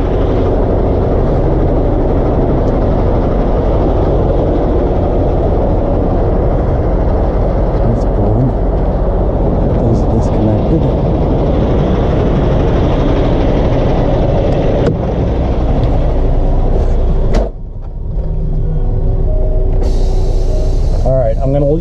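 A truck pulling an RGN lowboy trailer forward, a loud, steady low engine rumble close by that runs nearly unchanged for about twenty seconds before a brief dip and a shift near the end.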